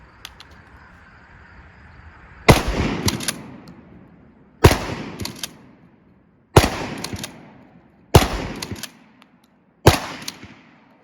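Five loud, evenly spaced blasts from a Smith and Wesson 3000 12 gauge pump shotgun firing hand-loaded buckshot at an outdoor range, each sharp report followed by a short decaying echo, with a few seconds of quiet between shots.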